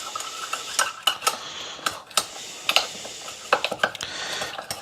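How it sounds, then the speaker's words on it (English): Chili, curry powder, turmeric and cumin stirred into a paste in a pot, heard as close, uneven scraping and clinking of a utensil against the metal over a low background sizzle. "Give this a bit of a stir."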